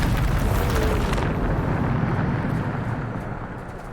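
A Bombarda spell explosion in the video game Hogwarts Legacy: a loud booming blast that rolls into a long, gradually fading rumble, heard alone.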